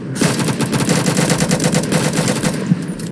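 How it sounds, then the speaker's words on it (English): Sustained automatic gunfire in a video game, a loud continuous stream of rapid shots with no talking. "We gotta shoot up in the air to show that we're leaving."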